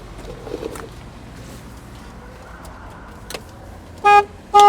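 Quiet background hum with a faint thump, then two short loud car horn honks near the end, close and abrupt.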